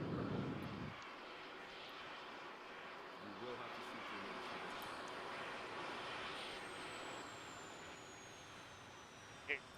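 Aircraft engine droning steadily at a distance, a broad sustained roar that holds throughout the clip with a rising whine near the end and faint voices in the background.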